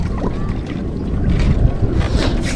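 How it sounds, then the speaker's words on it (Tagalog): Strong wind gusts across the open water of a fishing pond, a steady broadband roar with buffeting on the microphone that swells louder toward the end. "Lakas ng hangin."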